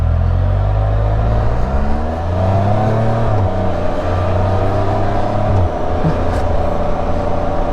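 A motorcycle engine runs steadily on a test ride and rises and falls in pitch as it revs and shifts, loud and close, with a constant whir and no talking.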